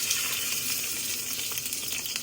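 Fish frying in hot oil for fish molly, a dense, even hiss of sizzling that holds steady and close throughout, no talking.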